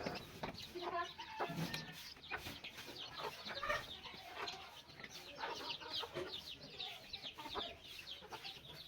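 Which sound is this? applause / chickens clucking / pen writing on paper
chickens clucking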